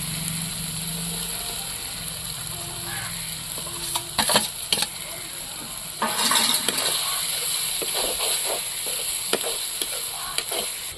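Salt-boiled prawns frying in a pan for a Tamil-style prawn fry, a steady close sizzle broken by several sharp scraping stirs of a spoon against the pan, with no talking.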